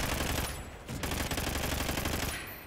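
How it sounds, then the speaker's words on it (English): Rapid automatic gunfire in a multiplayer shooter video game, a dense, loud continuous rattle of shots filling the whole stretch without any voices. "I'm getting shot at."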